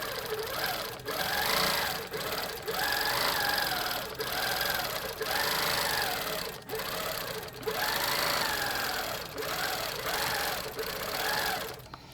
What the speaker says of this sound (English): I'm just going to stitch, and it'll go across and stitch down.